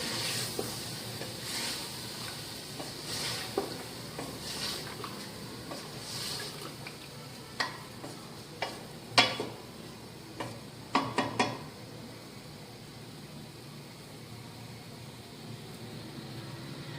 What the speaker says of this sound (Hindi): अब इसमें अदरक लहसुन का पेस्ट डालेंगे। इसको भी थोड़ा भून लेंगे।